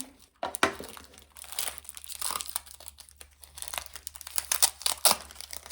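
Adhesive tape peels and crinkles off a plastic plant label on a potted Phalaenopsis orchid, close-up and in irregular bursts of crackling and tearing.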